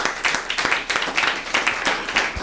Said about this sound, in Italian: penso che ci voglia un applauso a questo punto